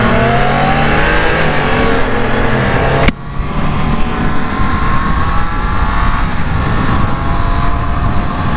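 Triumph Trident 660 motorcycle engine revving loudly up close, a sustained high-pitched roar with a brief abrupt drop partway through before the revving resumes.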